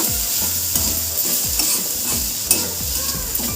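Fish bharta made from bhola fish with salt and dried chilli powder is stirred in a hot pan, giving rhythmic scraping strokes over a steady sizzle, close and fairly loud, with no talking.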